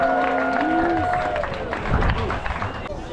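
A crowd at an outdoor dog contest cheers and applauds for Moose the Great Dane, with sustained clapping and whoops under a loud voice over a PA.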